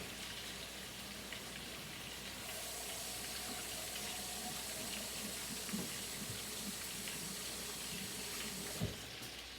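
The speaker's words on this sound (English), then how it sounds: "let me wash my hands" Tap water runs steadily into a sink while hands are washed, a close, continuous splashing hiss with a few small knocks and clatters near the end, no talking.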